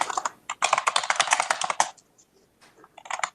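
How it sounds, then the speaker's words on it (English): Rapid clatter of keys on a computer keyboard, typed at close range in a legislative committee hearing room, with a dense burst of keystrokes followed by a few scattered taps. "Someone's typing."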